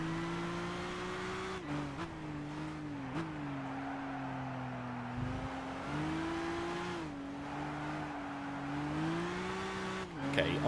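Race car engine in the Gran Turismo 6 video game, a steady droning tone that rises and dips with gear changes and throttle, continuous and fairly loud throughout.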